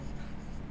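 Pen or chalk writing during a Class 11 maths lesson on sets, a brief continuous scratching stroke heard close and alone, without speech.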